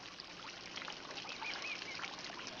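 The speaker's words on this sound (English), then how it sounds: "I hear the water. I hear the birds." Birds chirp and call near trickling water outdoors, a faint steady mix of small bird notes over a soft continuous wash of flowing water, with no speech.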